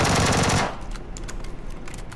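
A Vector submachine gun fires a loud, rapid sustained burst in a video game, then cuts off after about half a second, leaving quieter in-game ambience with faint clicks.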